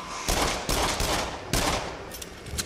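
Gunfire from a weapon in the VR shooter game Until Dawn: Rush of Blood, a few loud, sharp blasts with ringing tails and a heavy burst near the middle, close and alone with no talk.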